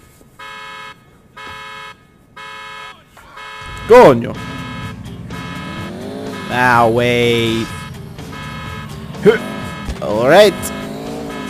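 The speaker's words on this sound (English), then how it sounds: "Stop honking now." Car horn honking repeatedly in GTA IV, a yellow and black car stolen from bushes, steady beeps at the start followed by engine roar, skidding and crashes with someone talking over it.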